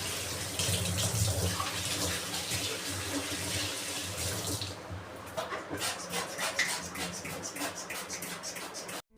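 Tap water runs steadily into a bathroom wash basin while it is scrubbed clean, a broad rushing wash that thins after a few seconds into choppier splashing and rubbing strokes, with no talking.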